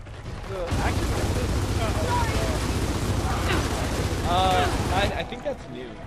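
Gears of War 4 combat with a Boomshot grenade launcher explosion: loud, dense blasts and rapid gunfire pound continuously for several seconds, then break off abruptly near the end.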